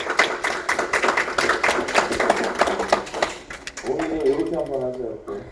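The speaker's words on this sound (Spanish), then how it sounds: "los hermanos y jóvenes vamos a aplaudir para las hermanas que trabajan siempre" A church congregation applauds for the sisters with a burst of rapid, dense clapping that fades after a few seconds, followed by a voice speaking.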